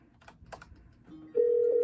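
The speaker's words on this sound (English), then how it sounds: "the redial soft key basically redials the previous extension or phone number you dialed" Cisco CP-8865 IP phone redialing a number: a few soft button clicks, then a steady electronic dial tone cuts in loud and close for the last half second.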